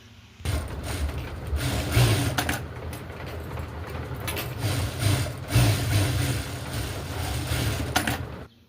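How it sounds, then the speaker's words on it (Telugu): A sewing machine runs steadily as it stitches together reused waste bags with a firm seam, its mechanical whirring and clatter close and continuous, with a few short pauses and bursts. "ఇలా ఒక గట్టి కుట్టు అనేది వేసేసుకోవాలి"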